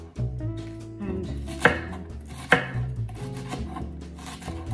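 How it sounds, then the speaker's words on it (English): A knife slices a small cabbage finely on a board, with close, steady cutting strokes and two sharper knocks against a low background hum. "So I'm using a small cabbage today, and I'm cutting it very finely with small slices."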